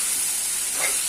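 An egg and soybean mixture is stirred in a pan, giving a soft, steady sizzling hiss with a faint scrape near the end, quiet and without voices.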